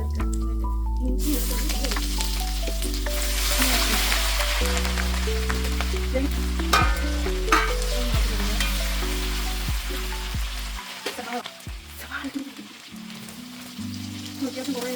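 Chopped ginger frying in hot oil and stirred, a continuous loud sizzle with scraping, under a speaking voice and background music.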